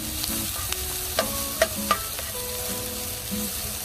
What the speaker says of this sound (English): So we're gonna saute this